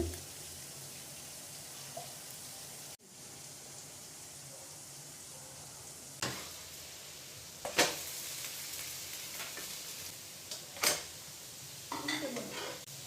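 Millet dosa batter cooking on a hot pan, with a soft steady sizzle and occasional scraping and clinks of a metal utensil against the pan, close by and without talk.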